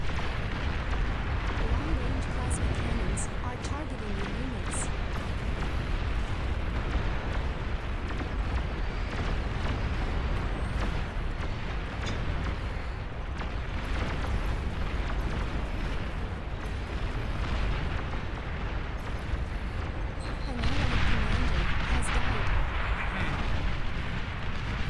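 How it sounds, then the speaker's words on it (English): Long-range plasma cannons in the real-time strategy game Beyond All Reason fire in a continuous barrage of heavy booms and rumbling blasts, dense and loud throughout, swelling louder near the end. "Long-range plasma cannons are targeting your units."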